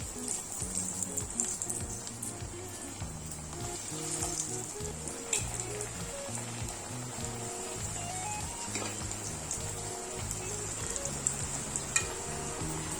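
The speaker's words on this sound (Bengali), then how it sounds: "গ্যাস কিন্তু একদম লো ফ্লেমে কিন্তু এগুলোকে আমি ফ্রাই করছি" Chicken cutlets fry in hot oil over a very low flame, giving a steady, soft sizzle throughout with faint background clatter and a voice speaking quietly underneath.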